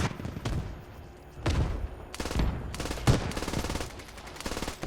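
Heavy machine gun fire from a Leopard tank in the Squad combat game comes in dense, loud bursts with short gaps, the rapid shots booming close in the mix.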